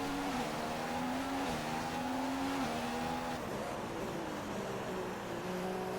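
F1 race car engines in a racing video game at Singapore, a loud continuous high drone whose pitch rises and dips with gear shifts, steady and close with no talk.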